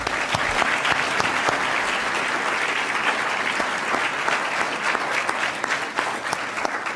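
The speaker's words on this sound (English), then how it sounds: "I'd like to ask you to please join me in another round of applause for Mr. Yoder and Mr. Muffley." Sustained applause from a school audience honoring two retiring teachers and coaches at a senior awards ceremony, steady dense clapping throughout with no talk over it.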